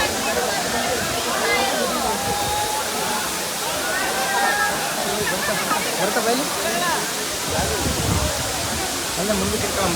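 The Agaya Gangai waterfall in Tamil Nadu pours from a great height in a dense, continuous roar close by, with voices faintly mixed in under the crashing water.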